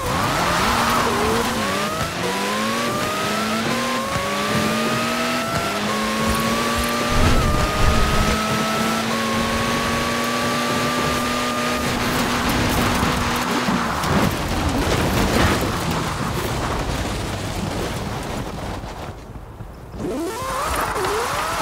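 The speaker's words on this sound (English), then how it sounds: "So let's go do the drag race and we'll see how it goes." A Reliant Supervan and a Mazda, both fully upgraded, drag race in Forza Horizon 4. Engines rise and drop in repeated gear-shift sweeps for about fourteen seconds, then give way to a rushing, noisy wash until the end.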